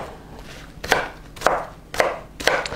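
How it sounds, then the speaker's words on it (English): A knife chopping an onion on a cutting board, four sharp, evenly spaced chops close up with quiet pauses between, no talking. "Chop these up, put them in my little side bowl here."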